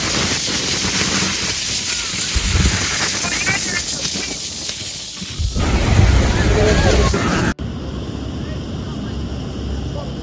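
Niagara Falls thunders as a loud, constant wash of roaring water heard up close, with people talking over it before the sound cuts to a quieter rush.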